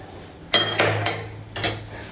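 A spice mixture with mint and salt stirred in a bowl, heard as four sharp metallic clinks and scrapes of a spoon against the dish, spaced unevenly and fairly close.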